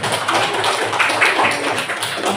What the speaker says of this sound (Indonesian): Kasih tepuk tangan buat nomor 1.